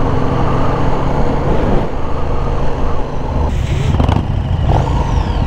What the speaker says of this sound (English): The only thing I like about Harleys is the sound of them.